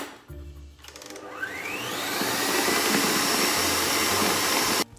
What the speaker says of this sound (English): We're going to mix this on high speed, guys, and then this is pretty much done after a couple minutes.